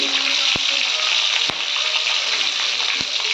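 Fennel seeds, green chillies, garlic and ginger hiss loudly in hot oil alongside cinnamon, cloves and marathi moggu for a paneer gravy, a constant close sizzle broken by three sharp clicks.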